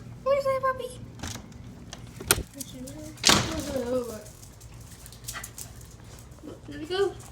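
A puppy whimpers and yips in short high whines at a few points, close by, while a person repeatedly calls out to it and a door knocks once.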